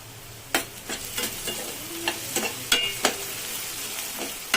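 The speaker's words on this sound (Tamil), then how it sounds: "ஒரு 2 நிமிஷம் இந்த வெங்காயம் வதங்கிட்டோம்." Onions sauté in a pan for a spicy egg curry, with a steady sizzle under repeated stirring scrapes and clinks close by.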